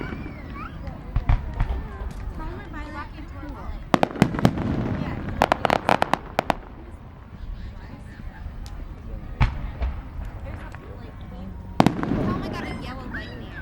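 A 2008 fireworks display at Kenosha near the marina, with sharp bursts and crackling pops arriving in irregular clusters, some loud and close, heard between people talking in a crowd.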